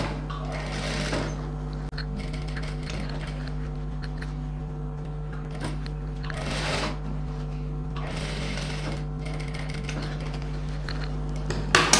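A sewing machine runs steadily, stitching the pleats of a silk pattu pavadai skirt with a continuous mechanical whirr and rhythmic needle clatter that keeps going throughout.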